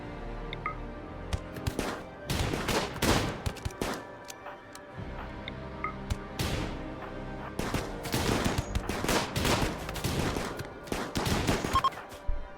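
Shootout in the video game RimWorld, with bursts of rapid gunfire in irregular clusters of sharp cracks and short quiet gaps between volleys, fairly close and loud, no talk.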